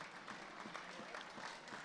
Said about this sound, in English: Hunter just getting a round of applause from the Chiefs crowd